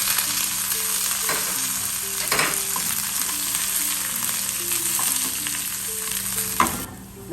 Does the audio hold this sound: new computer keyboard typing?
no